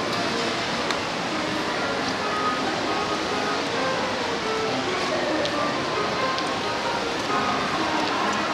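Steady rain falls in Tokyo, a dense, even hiss of drops on outdoor surfaces that holds constant throughout at moderate loudness, with no speech over it.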